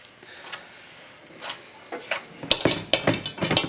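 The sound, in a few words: whisk mixing doughnut batter in a bowl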